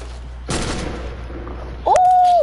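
A burst of gunfire in a first-person shooter video game, a quick rattling volley that fades out, followed by a rising whistling tone near the end.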